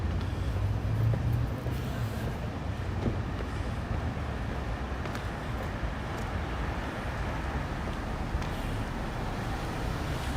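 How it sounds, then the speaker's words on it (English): A subway train rumbles past on a late-night street in Williamsburg, Brooklyn, a steady low roar filling the whole stretch, loudest near the start and then holding as a broad continuous wash. "the subway just came by"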